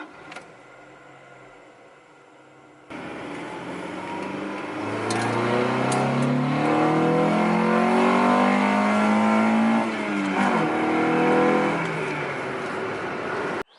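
A Honda Integra with a B20 engine accelerates hard from inside the cabin, the engine note climbing loudly through the revs for several seconds after a quieter start, with no talking.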